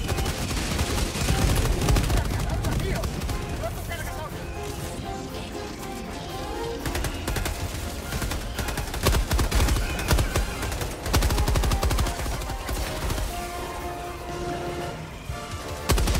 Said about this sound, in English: let your machine gun do work